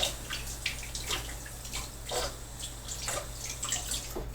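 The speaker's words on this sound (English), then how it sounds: "Run it under cold water." Cold water running from a tap over a wooden bow part for a take-down Sipahi bow, a faint continuous splashing with irregular drips, no talking.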